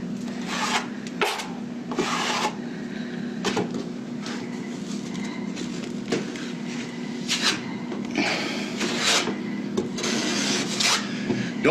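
A 6-inch trowel spreading drywall mud in a bead across a surface, heard as repeated soft rubbing and scraping strokes of varying length, close and moderately loud over a steady low hum, with no talk.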